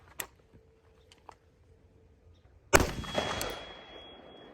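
A single sharp, loud gunshot from a 5.56 NATO rifle cracks out after a few faint clicks, followed by a long ringing tail that slowly fades.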